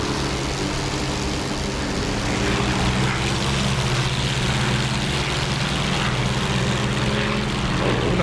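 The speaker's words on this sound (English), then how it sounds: "Mustang's taking off." A P-51 Mustang warbird in the DCS flight simulator takes off, its piston engine and propeller giving a loud, steady, throbbing drone that builds slightly and holds throughout.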